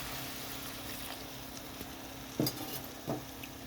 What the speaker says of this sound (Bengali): এখানে আমি খুব অল্প পরিমাণে একটু জল দিয়ে দিচ্ছি